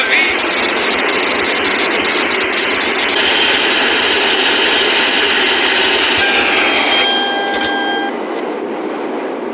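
A 4.0 flex car engine runs steadily in snowy conditions, a loud continuous hum and rush holding for the whole stretch, with a few brief high whines and clicks near the end.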